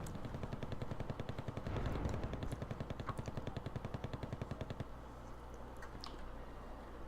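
Gunfire in the real-time strategy game Wargame Red Dragon as special forces engage fusiliers, a long run of rapid, evenly spaced automatic shots followed by steadier low rumble and scattered distant pops.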